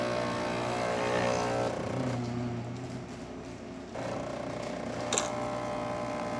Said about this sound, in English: So starting with one shot of espresso, we're gonna test it out